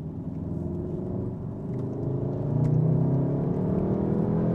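A Revo Stage 1 tuned VW Golf R accelerates on a dual carriageway, its engine a low, rising drone that grows louder and deeper as the car pulls harder, heard from inside the cabin.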